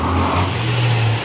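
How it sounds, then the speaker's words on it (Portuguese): Traffic on a busy street, with cars and a motorcycle passing close by, a steady loud engine drone that swells as a vehicle accelerates near the end. "Muito barulho aqui, passando moto,"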